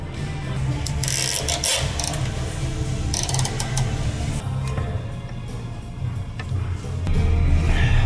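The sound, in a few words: ratchet tightening bolts on a VW Atlas AC compressor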